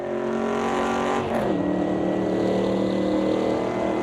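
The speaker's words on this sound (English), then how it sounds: "this car also sounds quite a bit mute" Race car engine in the Automobilista 2 racing game drones steadily at high revs, with a brief dip and shift in pitch midway before holding a constant loud tone.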